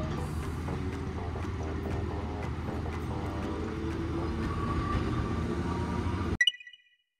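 A Tosaden tram crosses the Harimaya intersection in Kochi, a steady rumble with faint rhythmic clicks of the wheels over the rail joints, then an abrupt stop at the end.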